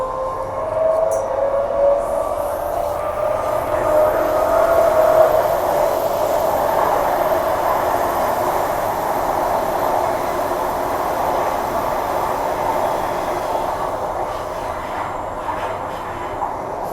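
A Perth suburban train runs between East Perth and Claisebrook, heard from on board as a steady, loud rolling rumble and hum that holds for the whole stretch, with faint squeal and no talking.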